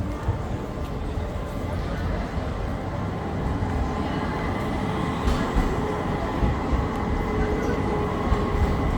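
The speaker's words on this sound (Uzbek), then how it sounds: "Bu yoqda tramvay." A tram rolls past on an Istanbul street in the evening with a steady rumble and metallic rattling, street noise and murmuring voices mixed in around it.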